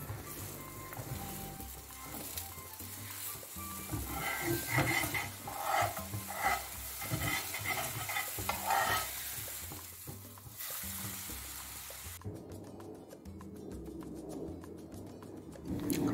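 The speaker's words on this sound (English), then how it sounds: "So I'll be frying the remaining egg like an omelette for garnishing." Steady sizzling of egg frying in a pan like an omelette, with occasional scraping and light utensil clinks, continuous and close, with no talking.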